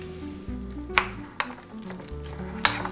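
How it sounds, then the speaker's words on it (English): Freshly cooked rice and beaten eggs are stirred together in a bowl, with soft squishy mixing and a few sharp clinks of a utensil against the dish, close and fairly quiet. "mix the beaten eggs directly into the freshly cooked rice"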